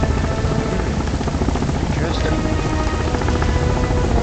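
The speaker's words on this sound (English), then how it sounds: "I'm in a helicopter." A helicopter in the video game Sons of the Forest gives a loud, constant rotor thrum and engine buzz that fills the whole stretch while a person speaks briefly over it.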